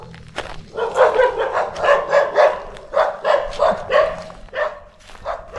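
Several dogs bark repeatedly in quick bursts, fairly close, with an irregular rhythm and a few higher yips mixed in.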